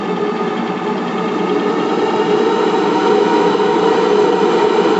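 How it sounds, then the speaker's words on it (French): Gas burner running at full under the boiler of a steam launch, a steady loud roaring rush that holds constant throughout with no talk. "écoutez le gaz à fond."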